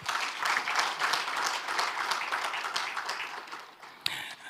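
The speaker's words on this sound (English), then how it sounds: "I think Honorable Minister deserves another round of applause." Attendees at a World Ozone Day and clean air celebration give a minister a warm round of applause, a continuous crackle of many clapping hands at moderate level, tapering slightly near the end.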